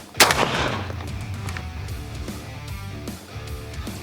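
A Franchi Affinity 3 20 gauge compact inertia shotgun fires one loud close shot followed by a long rumbling echo that fades, with no talking.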